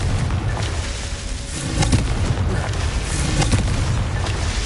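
Confringo fire spell blasts in the Hogwarts Legacy video game, a dense run of booming explosions and crackling impacts that roll on continuously at close range, loud and without pause.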